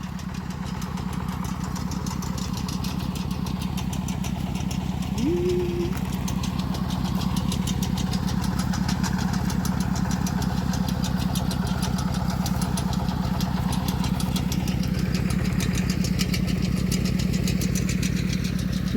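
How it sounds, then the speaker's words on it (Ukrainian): A steady, rumbling tractor engine runs continuously at close range while digging potatoes, with an even rhythmic throb and no talking. "По рядку копає трактор."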